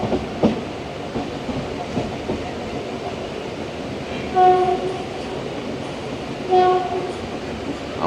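A train pulls into Malda Town station, likely hauled by a new WAG9AC electric locomotive, with a steady rumble of wheels and two long horn blasts midway and near the end.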